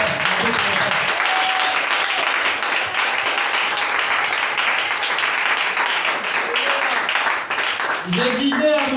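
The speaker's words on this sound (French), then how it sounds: "Acclamez très fort." A French-speaking audience claps loudly and steadily for several seconds, with a voice speaking briefly as the applause fades at the end.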